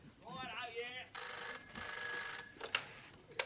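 Telephone bell ringing loudly in a sitcom scene, a steady electronic trill lasting over a second with brief bursts after, following a voice and some background sounds.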